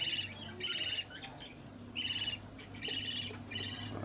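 A bird chick calling during a harvest of caged birds, giving short bursts of high, thin peeping in five quick clusters with quiet gaps between, faint and close.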